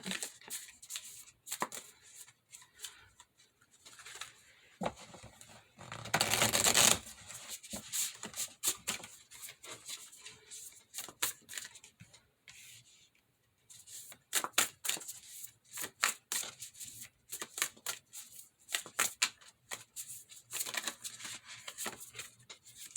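Tarot cards are shuffled and handled at close range, with a burst of riffling followed by many quick flicks, taps and slides of card stock.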